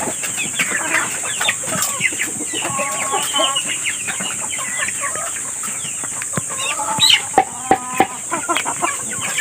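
Chickens cluck and call nonstop in a farmyard, close and busy, with a few sharper squawks near the end and no talking.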